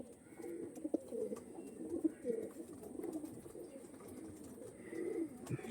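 Female pigeons in a loft give soft, repeated low cooing calls, close but quiet, with faint rustling between calls and no talk.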